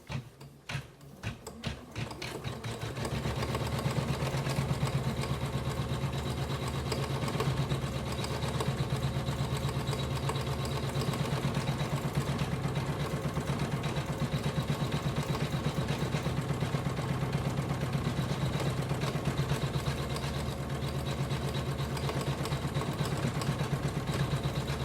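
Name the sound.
ScanNCut embroidery machine stitching an appliqué design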